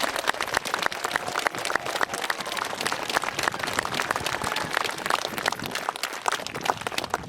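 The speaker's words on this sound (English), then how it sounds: "So the biggest round of applause today, please, has to go for our young people." A crowd at a St George's Day parade gives a long, steady round of applause for the young participants, crisp dense clapping sounding close and continuous from start to finish.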